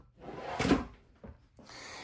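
A deep drawer in the utility room of a 2026 Ahara 383UR RV slides open or shut with a brief, close wooden rumble and knock, followed by a couple of softer thuds and a faint hiss.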